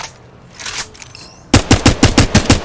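Apex Legends Mobile automatic weapon firing a quick, evenly spaced string of about nine loud, close shots after a short quieter stretch of faint game noise.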